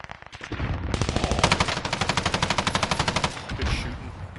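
Rapid automatic machine gun fire in a battle-royale video game, a long continuous burst of evenly spaced shots lasting about two and a half seconds, loud and close.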